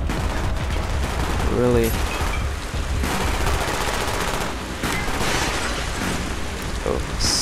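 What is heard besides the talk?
gunfire in video game Call of Duty Black Ops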